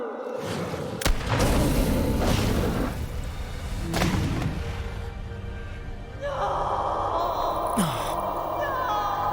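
A single sharp, loud gunshot goes off early in the video game The Quarry, followed by rumbling game ambience, gasping vocal sounds and a rising tonal effect near the end.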